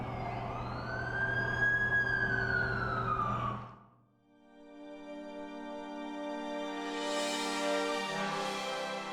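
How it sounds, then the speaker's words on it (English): An ambulance siren in the video game The Amazing Spider-Man 2 wails loudly in a rising and falling sweep, dips briefly, then returns as a steady layered electronic tone with a synthetic, game-like quality. "That's the ambulance I called."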